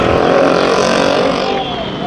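A pack of figure 8 race cars roars loudly through a turn at a fairground track, engines blending into a dense, continuous blare that eases slightly near the end.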